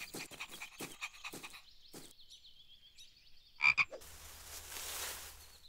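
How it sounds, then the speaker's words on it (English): A frog croaks in an animated junior ranger animal adventure, a close series of rapid rhythmic croaks followed by a brief call, then a rush of rustling noise. "I wonder where that frog is going."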